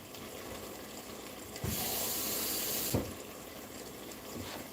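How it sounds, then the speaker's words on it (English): Tap water runs into a cooking pot for lamb stew, a steady broadband rush starting abruptly and lasting about 1.3 seconds before cutting off, set against quiet kitchen background with no talk. "so I'll put water in here."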